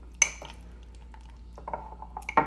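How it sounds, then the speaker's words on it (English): A fork mashes butter into ingredients in a mug, giving a few soft, sparse scrapes and light clinks against the mug, close and quiet. "Use your fork to mush that butter up a little bit so it gets incorporated into the other ingredients."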